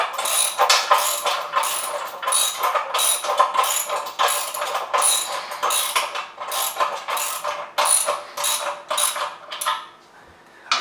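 A hand ratchet tightens bolts on a table built from a wheel and a stool, a close, rapid series of clicking ratchet strokes in uneven bursts that ends with a short pause.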